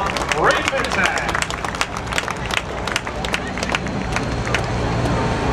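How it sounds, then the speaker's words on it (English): Truck pull fans give a round of applause: scattered, sharp hand claps ring out over a murmuring crowd, with an announcer's voice carrying over the noise. "So let's give him another nice round of applause, fans."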